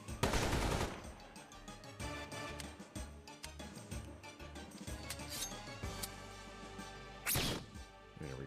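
Video-game gunfire from Metal Slug Tactics with burning ammo: rapid machine-gun bursts and sharp impacts, loud and close, with metallic clinks and a crash near the end.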